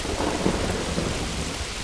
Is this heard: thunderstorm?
yes